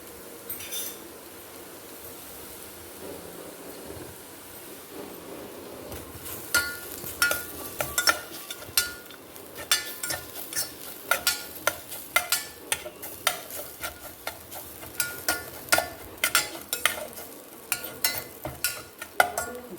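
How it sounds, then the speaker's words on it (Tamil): Grated coconut is sautéed in ghee in a pan, starting with a soft sizzle and building into repeated sharp scrapes and clinks of a spoon stirring against the metal, close and fairly quiet. "நெய் விட்டு தேங்காய் பூ வதக்கிக்குவோம்."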